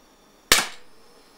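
A single sharp shot from a RAM combat pistol cracks close and loud, followed by a short fading tail in an otherwise quiet setting.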